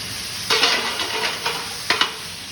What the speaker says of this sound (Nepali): टमाटर ग्रेभी एड गर्नेछौँ हल्का।